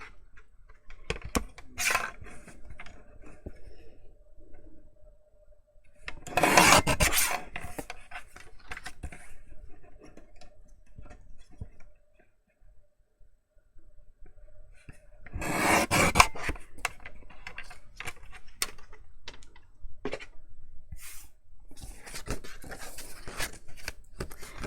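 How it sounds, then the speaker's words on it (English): Scissors slice the paper tabs off disc-bound planner pages in two longer bursts of crisp rasping cuts. Quieter shuffling and handling of paper fill the gaps between them. "for this one, we need to cut the tabs off on both of them."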